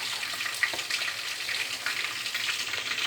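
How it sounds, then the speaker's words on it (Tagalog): Steady crackling sizzle of tofu frying in hot oil, continuous and close, with a few sharper pops scattered through. "piniprito ko na yung tokwa."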